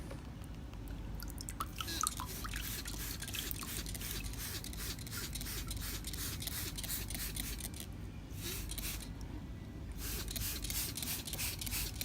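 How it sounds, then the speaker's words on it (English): A spray bottle squirts water onto rusted metal during a vinegar rust-removal test, producing a run of short, crisp hissing spritzes in quick rhythm, close and fairly quiet. "I've got some water here in a spray bottle just to show you exactly what it's done."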